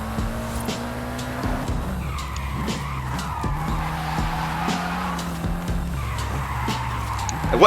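Mitsubishi Lancer in Forza Horizon 5 with a steady engine drone that shifts pitch through gear changes, layered with tire squeal and skidding, close and continuous.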